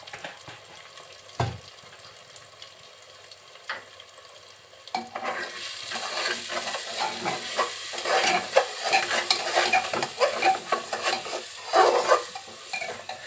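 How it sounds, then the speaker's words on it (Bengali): Mung dal being stirred with spices in a pan: scattered spoon clinks at first, then a rising bubbly sizzle with busy scraping and tapping that grows louder toward the end, close by, with no one speaking. "সব মশলাগুলো দিয়ে খুব সুন্দরভাবে ডালটা নেড়ে চেড়ে নিলাম"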